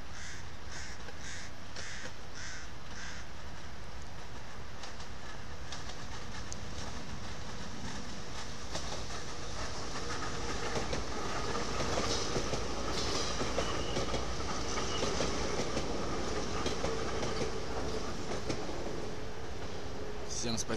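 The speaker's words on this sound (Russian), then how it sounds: "Смотрим метро." A metro subway train runs steadily throughout, a continuous rumble with rail noise and clatter, loud and close, with crows cawing faintly in the background.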